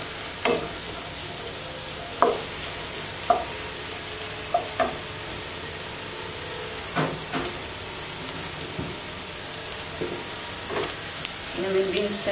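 Carrots tossed and stir-fried in a hot pan for egg vegetable fried rice, giving a steady close sizzle broken by scattered sharp clinks and scrapes of the spatula against the pan.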